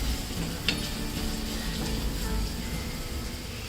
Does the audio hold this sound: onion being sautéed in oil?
yes